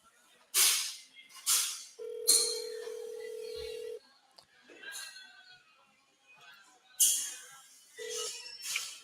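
A telephone rings through a handset on the line, giving repeated tonal rings separated by pauses, with someone talking between them.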